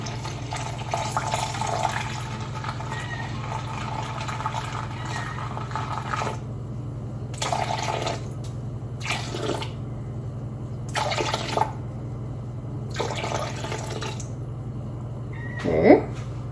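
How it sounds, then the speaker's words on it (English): Warm water, heated on a stove, is poured into a bread dough mix in a home kitchen. It arrives in several separate splashing bursts over a steady low hum, with no talking. "Then we'll do 660 grams of water, and I've just had that warming up on the stove for a little while."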